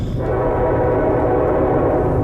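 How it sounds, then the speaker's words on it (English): A loud, sustained train horn blares without pause, a thick droning tone that sounds close by. "A train horn comes from behind even though the tracks have been ripped up long ago."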